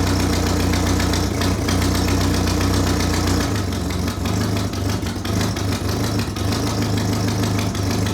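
A Renault 6 engine idles steadily with a leaking exhaust, a close, continuous low rumble with a slight uneven knock and no voices.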